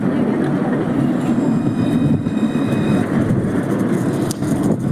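A TAM tram on Montpellier's line 1 pulls away from the Mosson terminus, a steady, fairly loud rolling rumble with faint high squeals and clicks of wheels on rail, close by and with no talking.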